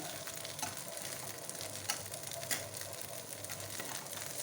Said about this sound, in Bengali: বাটা দিয়ে এটাকে ভেজে নেব